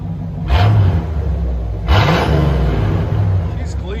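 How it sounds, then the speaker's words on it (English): A 1979-1980 Chevy Corvette V8 with a Flowmaster 40 Series or straight-pipe exhaust revs hard twice up close, each loud blip rising and falling over a deep idling rumble. "That sounds like a mean Corvette right there."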